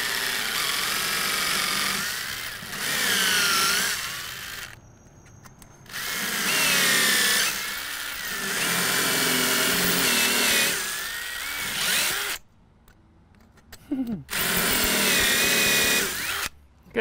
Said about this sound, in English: I'm just going to cut the aluminum and the countertop.